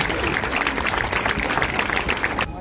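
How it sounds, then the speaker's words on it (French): Audience applause at the opening of a rose exhibition in Aix, dense steady clapping from a crowd that is loud and close, then cutting off abruptly near the end. "que vous pouvez applaudir"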